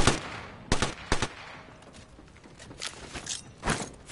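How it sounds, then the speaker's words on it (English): Video game gunfire: a few sharp, close shots in quick succession, then a lull and more scattered shots, with no talk over them. "Opening fire."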